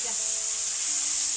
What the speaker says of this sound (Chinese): 肉炒的差不多了，辣椒倒进去，翻炒一下